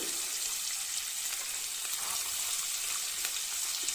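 Cluster beans fry in hot oil with turmeric, giving a steady close crackling sizzle that holds evenly throughout with no talking.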